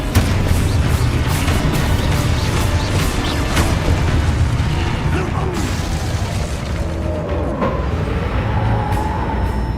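Booming spell blasts and magical impacts from combat in the video game Hogwarts Legacy, a dense, loud, continuous rumble with repeated bursts and mechanical clatter and no clear gaps.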